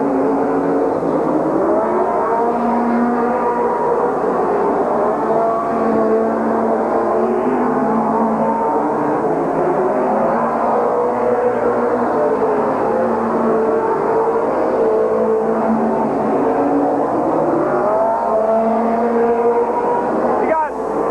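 Race cars circle Midvale Speedway in 1987 with a continuous, loud engine roar that swells and recedes as they pass, while a commentator talks over it throughout.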